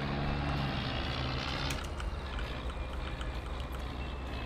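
A Zetor tractor engine from a Polish mod pack in Farming Simulator 22 drones steadily and loudly throughout, a dense continuous rumble with a shift in tone partway through, with no talk over it.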